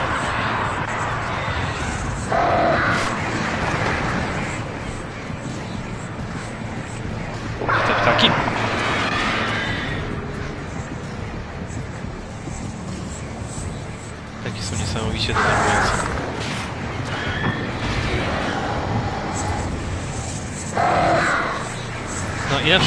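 Crows cawing in the video game Alan Wake, several loud bursts of harsh caws returning every few seconds over a low ambient drone and faint background rumble.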